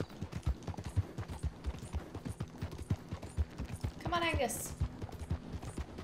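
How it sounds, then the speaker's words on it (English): Horse hooves clip-clop steadily through a town in Red Dead Redemption 2, a regular close rhythm of hoofbeats under a voice urging the horse on, with a brief whinny near the end. "The horses go too slow in the city limits."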